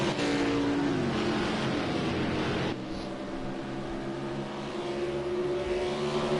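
Race cars at Watkins Glen roar past in a loud, continuous engine blare that shifts pitch midway as the pack passes, with no talking over it.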